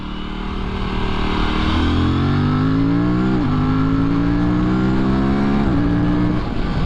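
A 2024 Aprilia RS457 parallel-twin motorcycle accelerating on the road in sport mode, engine note climbing through short-shifted gears with brief dips at each change, loud and close from the rider's position.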